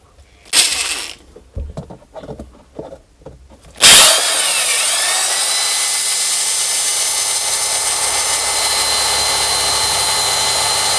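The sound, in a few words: electric drill drilling through a car fender liner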